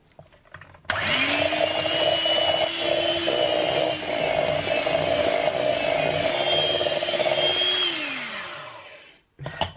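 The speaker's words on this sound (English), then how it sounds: "now we'll whisk it until it's creamy" Electric hand whisk whirring through cream cheese and softened butter, a loud continuous motor drone that starts abruptly, holds steady with slight pitch wobble for about seven seconds, then winds down and stops.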